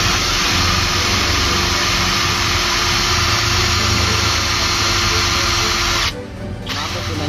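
A steady, loud motor whine from a Tanzu 800 Nm cordless impact wrench runs continuously, with a brief dip in intensity near the end before the whirring resumes.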